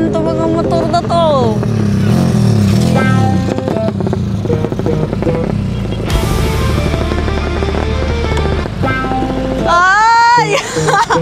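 Motorcycles rev and pass nearby on a road during a group ride, loud engine drones rising and falling in pitch, with excited voices talking over them.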